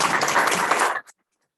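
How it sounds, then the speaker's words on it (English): Dense applause from a 6th grade moving-up ceremony audience at School 25, loud and steady for about a second before cutting off abruptly. "Give yourselves a round of applause."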